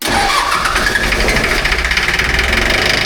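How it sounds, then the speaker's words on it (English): A diesel engine on an amphibious ATV bought at auction cranks and then runs rough and loud up close, with a steady knocking, chugging pulse throughout and no talking. "Just try cranking it one more time."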